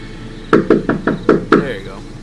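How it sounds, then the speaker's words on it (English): Six hard knocks on a front door, a sound effect in a narrated horror story, struck in a quick, evenly spaced sequence that is loud and close, followed by a brief ringing tail. "so I just knocked really hard."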